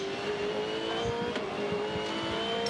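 A Supercars race car makes an overtaking move during the 2013 Darwin Triple Crown race, its engine a loud, sustained high-revving tonal whine with gear-change shifts and no talk.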